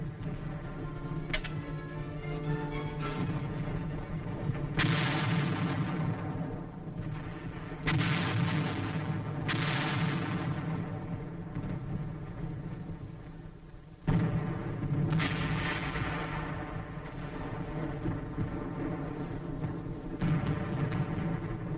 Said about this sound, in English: the big guns from this forward position concentrate their fire on known and suspected targets